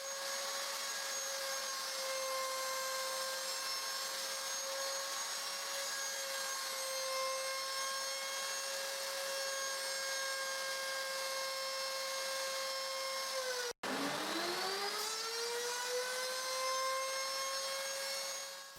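A wood router cuts a groove for cabinet lid support hardware, a loud steady high-pitched whine held for about fourteen seconds, then cutting out abruptly, dropping in pitch and spinning back up to a sustained scream, close and alone.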